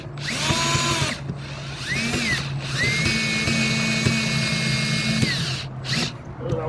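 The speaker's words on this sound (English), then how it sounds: "You see I've got my Makita on low on one" A Makita drill runs on its low first setting, driving screws slowly in a series of steady whirring bursts that rise and fall with short pauses between them, close and fairly loud.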